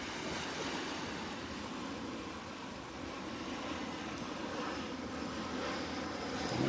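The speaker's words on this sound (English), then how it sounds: "A private jet coming in over my head." A private jet passes overhead above the beach at Naples Pier, a faint, steady broad roar that swells slightly toward the end over distant surf.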